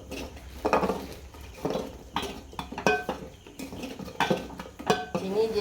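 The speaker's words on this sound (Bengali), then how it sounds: "এইভাবে নেড়ে নিতে হবে, চিনিটা যতক্ষণ না গোবিন্দভোগের চালের সাথে মিশে যায়।" Metal spoon scraping and clinking against a pot as sugar is stirred into Gobindobhog rice payesh, a series of irregular close taps and scrapes with no talk.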